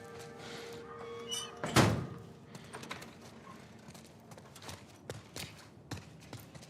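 A door shuts with a single solid thunk partway through gameplay of The Last of Us Part I, followed by quieter scattered knocks and footstep-like taps against a low ambient background.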